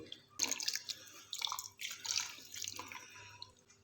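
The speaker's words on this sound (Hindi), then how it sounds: "आपने इसमें पानी ऐड करना है, अच्छे से आपने इसको मिक्स कर लेना है" Water is poured into cornflour and stirred by hand in the kitchen while making chicken corn soup, giving quiet, irregular drips, splashes and soft sloshing strokes with short pauses.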